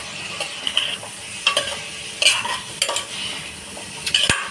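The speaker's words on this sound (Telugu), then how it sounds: "ఒకసారి ఇలా కలిపేసుకొని ప్లేట్ పెట్టించుకున్నా" Salted fish curry stirred in a pan, a spoon scraping and clinking in repeated close strokes over a soft sizzle, with no talk.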